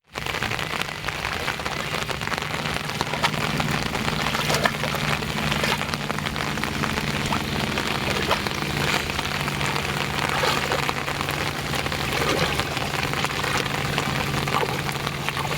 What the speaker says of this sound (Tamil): தஞ்சை மாவட்டத்தில் அதிகாலை முதல் மழை பெய்து வரும் நிலையில்